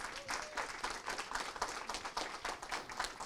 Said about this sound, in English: Can we give her an applause for that?